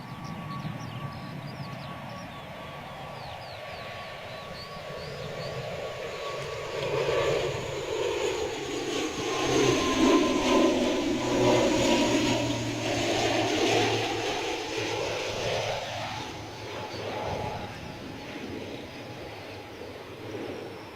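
An ATR turboprop lands in a crosswind at Bristol Airport, its engine drone swelling and sweeping in pitch as it passes close by, then fading, with no talk.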